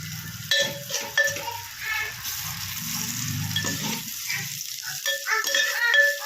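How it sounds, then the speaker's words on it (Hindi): Chopped onions sizzling in a pan over low-medium gas until golden, a steady crackling fry close by, broken by several spoon scrapes and metallic clinks of stirring against the pan. "उसको मैंने सिपरी में, जिसको मैं पका रही हूँ प्याज को, जैसे कलर आ जाए गोल्डन कलर"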